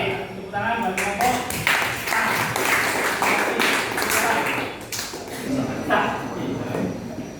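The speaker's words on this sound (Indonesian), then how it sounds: "tepuk tangan bagi kelompok" A classroom of students applauding a student group, a steady run of scattered hand claps at moderate level lasting several seconds with some taps and thumps among them.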